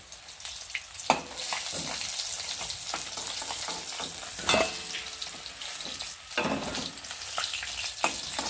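Mrigal fish fries in a pan of oil with steady close sizzling and crackle, broken by louder bursts and scraping stirs as the pieces are turned and lifted.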